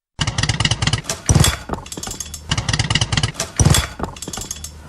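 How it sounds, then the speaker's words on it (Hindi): A motorcycle engine sputters and surges as it runs out of petrol, loud uneven bursts of revving that cut and restart in a repeating, choking rhythm, with no talk over it. "बाइक क्यों बंद हो रही है? ओ नहीं, पेट्रोल खत्म हो गया है।"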